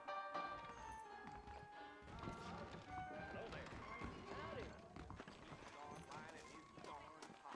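Steady clip-clop of trotting horse hooves in Red Dead Redemption, under a voice talking, with game music in the background.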